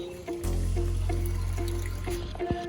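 Water runs into a fish tank for guppies and balloon mollies, with a steady trickling flow over a constant low mechanical hum and a few faint drips, with no voices.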